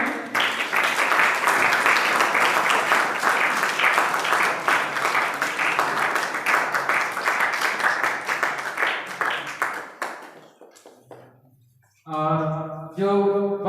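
A school audience applauds prize winners at a Constitution Day general knowledge competition, loud, rapid clapping that thins out and fades, followed by a brief musical tone.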